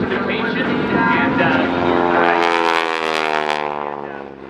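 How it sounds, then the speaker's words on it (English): A 9-cylinder supercharged Pratt & Whitney radial engine on an SNJ-6 aircraft, driving a Hamilton Standard constant-speed propeller, drones loudly in flight at an airshow, its rumble rising and shifting in pitch as the plane passes. "9-cylinder supercharged Pratt & Whitney radial engine spinning a big Hamilton standard constant speed propeller."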